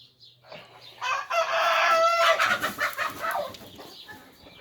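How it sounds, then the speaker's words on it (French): Hens cluck and a rooster crows loudly nearby in a farmyard, the drawn-out crow rising over scattered clucks, with a brief bit of rustling before and no speech. "Vieille poule."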